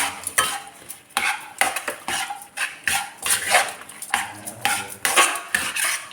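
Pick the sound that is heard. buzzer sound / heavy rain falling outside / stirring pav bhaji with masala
stirring pav bhaji with masala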